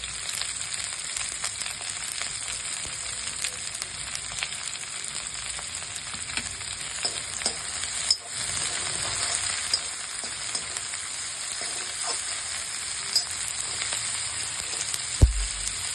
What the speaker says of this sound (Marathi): या भाज्या आपण सगळ्या छान मीठ घालून शिजवून घेऊया.